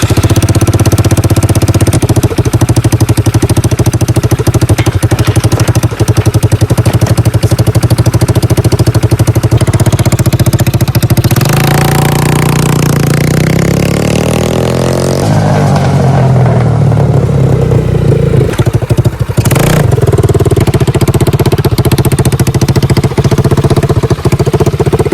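Small mini bike engine running after a carburetor swap, a loud, close, rough steady idle with clatter, swelling into a rev near the middle before settling back to an uneven idle.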